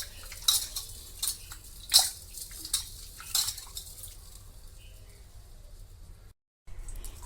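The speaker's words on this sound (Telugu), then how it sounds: "నేను ఒక 10 మినిట్స్ ఉప్పు నీళ్ళల్లో నానబెట్టుకున్న తర్వాత ఇలా కడిగి నీట్గా మిక్సీ జార్లో వేస్తున్నానండి" Salt-soaked grapes are rinsed and dropped into a mixer jar: a few sharp clinks and splashy rattles come in separate bursts, then taper off into quiet handling noise, with a brief silent gap near the end.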